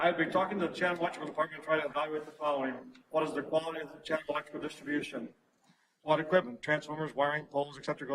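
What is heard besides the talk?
No distinct noise like a dog, phone or traffic.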